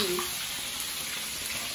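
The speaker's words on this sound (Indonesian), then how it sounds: "Ki ibu goreng terong." Eggplant frying in a pan, a close, continuous crackling sizzle of hot oil that stays fairly even throughout the short stretch.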